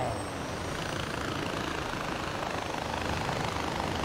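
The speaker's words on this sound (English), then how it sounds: "can I go in my helicopter? The quickest helicopter in the world to take off." A helicopter in the video game Far Cry spins up for takeoff, its dense rotor and engine roar loud and steady throughout, with no talk over it.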